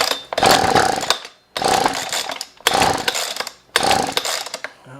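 Husqvarna 125b leaf blower engine fails to start, with four pull-start attempts, each a short sputtering, revving burst that dies away, in a close, loud, evenly spaced series.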